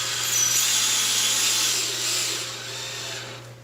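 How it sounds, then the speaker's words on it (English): Power drill whirring steadily as it drives screws into plexiglass for an office sneeze shield, a loud close motor hum with a steady low tone that eases off toward the end. "Now we're just going to run the screws in."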